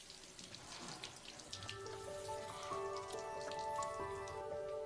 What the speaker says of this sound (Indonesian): Saat Shin Ho lagi memperbaiki kerannya